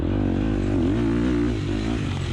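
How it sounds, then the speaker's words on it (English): A dirt bike with broken air forks revs hard on a wider stretch of wooded trail during a 2020 Flat Rock NCHSA race, its engine loud and close throughout, pitch rising and wavering as the throttle opens, with no talk. "opening up the throttle, getting it going a little bit wider of a trail here"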